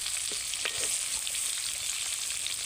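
Pieces of pointed gourd (potol) fry in shallow oil with a steady, close hiss and scattered small pops, without any talking.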